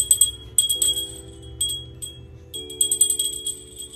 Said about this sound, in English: gonna ring the dinner bell